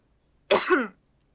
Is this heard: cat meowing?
no